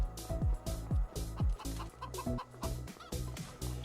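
Chickens in the Farming Simulator 25 video game cluck loudly and repeatedly in quick, close bursts, with one bird calling over another in a busy barnyard chorus.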